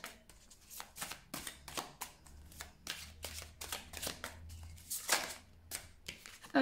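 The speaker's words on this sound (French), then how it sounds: "On va aller chercher une ou deux cartes conseils" Oracle cards shuffled and drawn by hand, a rapid run of crisp papery riffles and snaps in quick irregular bursts, close and fairly quiet, with no talking.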